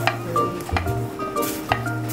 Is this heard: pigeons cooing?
no